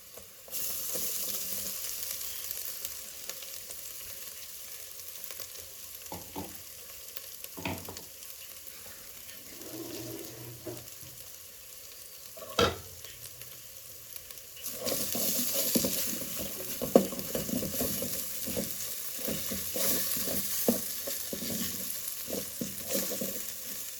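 Crushed ginger, garlic and curry leaves go into hot oil for yellow rice, giving a sizzle with occasional stirring clatter that grows louder and denser partway through. No one speaks.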